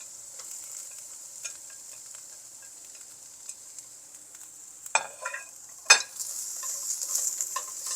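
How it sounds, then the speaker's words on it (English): Carrots and white onions are stir-fried in a pan with a steady, soft sizzle. Two sharp scrapes or tosses cut through near the end, and nothing else is heard. "Stir fry the carrots for about 3 minutes. Then add in your white onions."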